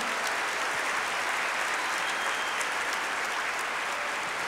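A church congregation applauds during Mass, a steady, dense wash of clapping that holds evenly throughout without a break.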